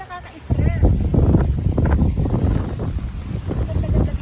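Outdoor wind on a tropical island buffets the microphone in a loud, continuous rumbling gust, while a person speaks over it.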